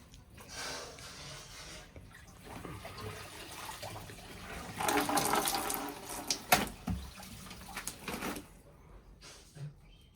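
Water runs from a tap to fill a washing machine, a soft, uneven gush that swells louder in the middle and tapers off, heard fairly close with no talking.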